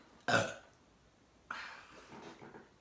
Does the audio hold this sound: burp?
yes